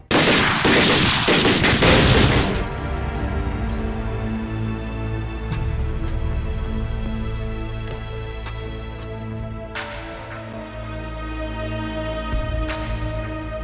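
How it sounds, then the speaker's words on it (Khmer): Rapid bursts of gunfire ring out loud and close in a Cambodian drama scene, a dense volley at first, then lingering echoing shots and a sustained rumbling tail. "បាញ់"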